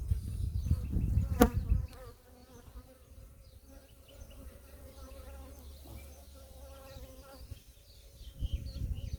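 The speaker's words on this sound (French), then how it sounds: "Un gros plan là sur les abeilles." Honeybees buzz in a dense, close hum at a hive, louder at the start and end, with a brief soft voice near the beginning.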